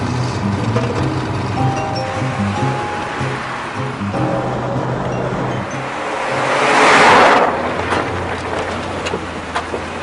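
A 10-ton truck's engine runs steadily after being push-started in Central Asia, with a low droning hum and a brief rushing swell midway.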